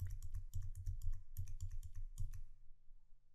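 Rapid keystrokes punch out a 10-digit number on a computer keyboard, a quick run of close, distinct clicks that slows and stops near the end, with no voices.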